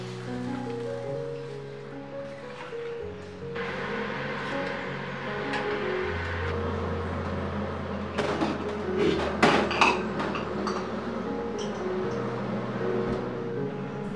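Chopped tomatoes are stirred in a cooking pan, producing steady scraping and clattering with a continuous background hum and a busier burst of clinks partway through.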